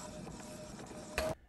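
An inkjet printer printing a sublimation transfer sheet hums faintly, then gives one short, louder mechanical burst near the end before falling silent.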